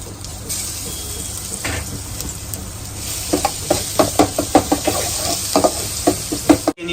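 Curry leaves, mustard seeds, cumin and ginger-garlic-chili paste fry in hot oil for a stuffed cluster-bean curry, a close, steady sizzle broken by a series of quick spoon knocks and stirs against the pan.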